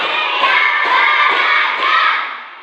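A classroom group claps together in a steady rhythm, several bursts of dense hand claps following one another without pause.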